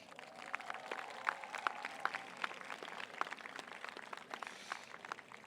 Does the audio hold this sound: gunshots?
no